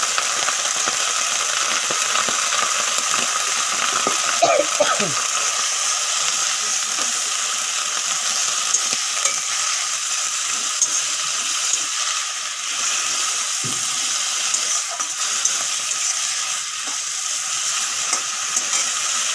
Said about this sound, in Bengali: এখন আমি পাতাটা ভালো করে ভেজে নেব